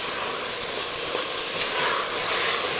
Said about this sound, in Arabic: هون مثل ما عم بتشوفوا ضفنا البصل ومنقلبهم مع بعض